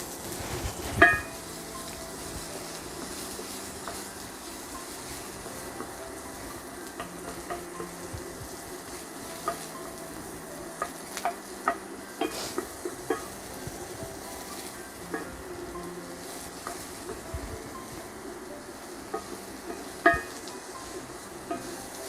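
Chopped onions sizzle and fry steadily in a little oil in a stovetop pan, a continuous close hiss broken by a few soft stirring scrapes and clicks.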